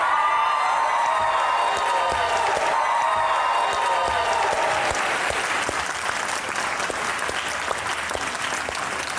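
Studio audience on a talk show applauding to welcome the guests, a loud steady patter of many hands clapping throughout, with some cheering mixed in during the first half.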